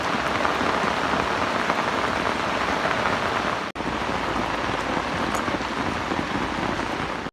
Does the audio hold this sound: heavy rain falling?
yes